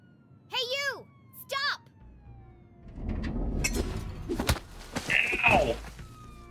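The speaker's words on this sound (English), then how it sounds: "Jenny could hear police sirens in the distance." Police sirens wail at a distance in the Jenny LeClue video game, rising and falling twice over a quiet backdrop before a busier stretch of noise and voices takes over.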